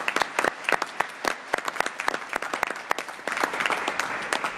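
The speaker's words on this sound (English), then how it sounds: "Let's give them a round of applause." An audience at a congressional field hearing in Chicago gives sparse applause, with separate hand claps sounding clearly in an irregular patter for several seconds.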